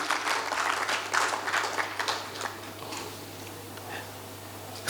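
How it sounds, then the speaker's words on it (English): Conference audience clapping for a managing director called to the stage, a dense burst of applause that fades out over a few seconds to near quiet. "A round of applause for him, please."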